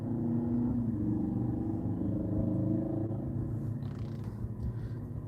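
A car passing at night with its lights off, a steady low rumbling engine and road noise filling the whole stretch, fairly close and continuous with no talking.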